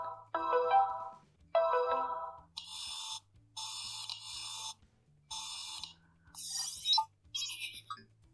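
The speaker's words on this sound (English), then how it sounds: "the 3 different audio tracks that we can play every time the camera pops up" A series of short electronic tones and whirring chimes, the Realme X pop-up camera sound effects, play one after another, each a distinct synthetic effect with brief silences between them.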